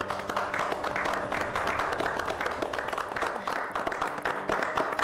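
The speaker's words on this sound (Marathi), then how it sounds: "ईशाचं एकदा जोरदार टाळ्या वाजून आपण पुन्हा एकदा कौतुक करूया" Loud, sustained applause from a crowd cheering for Isha at an event in a Marathi TV serial. Dense clapping holds steady at near-constant volume for the whole stretch.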